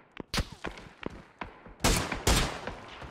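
Gunfire in a shooter video game: a quick string of sharp shots and bursts, some single cracks and some rapid volleys, loud and close with no talk.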